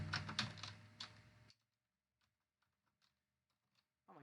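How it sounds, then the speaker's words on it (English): Quick keystrokes clatter on a computer keyboard for about a second and a half. A near silent stretch with a few faint isolated taps follows, then a brief burst of sound at the end. "today's just not my day when it comes to typing"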